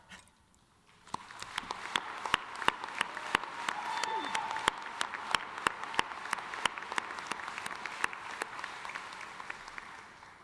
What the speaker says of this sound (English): Let's applaud, join in a round of applause for each other.